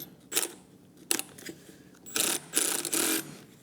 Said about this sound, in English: So now using our 17mm socket, we're going to tighten up the nut there.